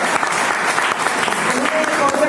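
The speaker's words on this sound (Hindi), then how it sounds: "सर जी के लिए जबरदस्त तालियां" An audience at a marketing plan presentation breaks into loud, steady applause, dense clapping with voices talking over it.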